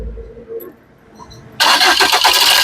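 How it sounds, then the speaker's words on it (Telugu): A 2015 Maruti Suzuki Swift Dzire LDI diesel engine cranks once and catches immediately, jumping from near quiet into a loud, steady running roar close by. "సింగిల్ సెల్ఫ్ లో కార్ స్టార్ట్ అవుతుంది"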